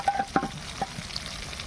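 Japanese puti pond fish frying in a pan, heard as a brief close sizzle with a few quick clacks and scrapes of a utensil against the pan, then a softer crackle.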